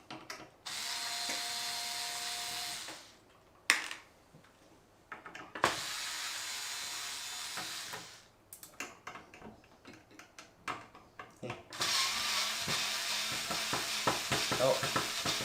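An electric screwdriver drives screws out of a PC motherboard inside a computer case, with bursts of steady high whirring broken by pauses, ratcheting clicks and metallic handling clatter, close and loud.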